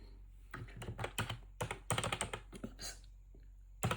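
Keys on a computer keyboard clack in quick irregular bursts at close range while text is entered into a Word document, with short pauses between runs of keystrokes.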